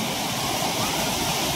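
Stream water rushes and splashes in a steady, dense, close flow outdoors, continuous and fairly loud with no pauses.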